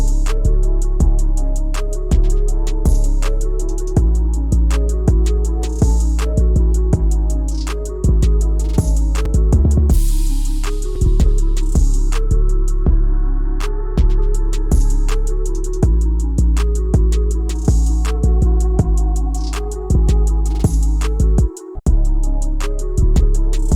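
A mixed hip-hop beat built in FL Studio plays loud and continuous, with heavy booming bass kicks, punchy snares, ticking hi-hats and melodic layers, briefly dropping out into a filtered break before the full groove returns.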